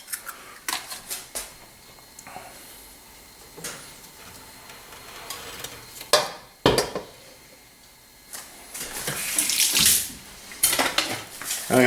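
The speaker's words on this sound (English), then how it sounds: "I'm going to beat this egg in the copper bowl once again" An egg beaten in a copper bowl with quick, irregular metallic clinks and scraping strokes, close by, coming in bursts with pauses, then building to a denser flurry of rapid whisking toward the end.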